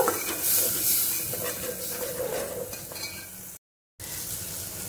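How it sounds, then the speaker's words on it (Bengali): Ghugni masala being sautéed with chopped coriander leaves, a loud close sizzle with stirring scrapes that fades slightly and cuts out briefly near the end. "এবারে এর মধ্যে দিয়ে দেবো ধনে পাতা কুচিটা। এটাও ভালো করে কষে নেব।"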